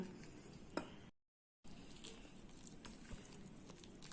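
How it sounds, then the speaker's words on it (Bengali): Thin batter of milk and water for motichoor laddu is stirred slowly, giving a quiet, wet, continuous swishing close up, briefly broken by a moment of silence. "ব্যাটারটা খুব পাতলা হবে, আস্তে আস্তে নেড়ে নিচ্ছি"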